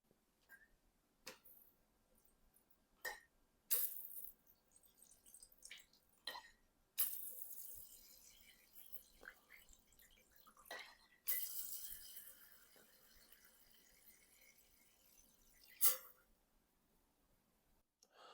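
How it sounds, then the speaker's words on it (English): Wine flows from a Coravin into a big wine glass in faint, quiet spurts of hissing pour, broken up by soft clicks and small drips, with no speech. "we're going to pour it into this big wine glass and give it a shot"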